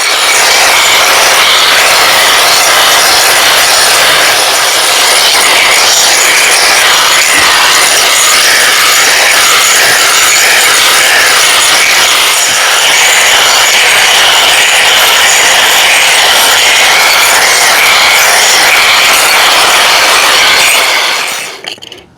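A blade smooths a concrete patch over driveway cracks and holes, a loud, continuous rasping scrape that runs close and unbroken for about twenty seconds before stopping.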